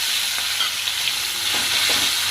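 Chicken keema frying in hot oil in a pan with whole cumin and chilli tempering, a steady, dense sizzle throughout with faint stirring scrapes, close and continuous with no talk.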